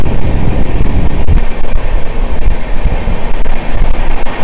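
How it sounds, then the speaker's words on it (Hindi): The Sayaji Nagari train overtaking at a station, a loud, close rumble of rolling wagons and rail noise with buffeting wind across the microphone. "सयाजी नगरी का ओवरटेक जो है वो हो रहा है।"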